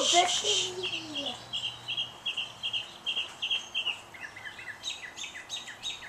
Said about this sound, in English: The birds are getting excited.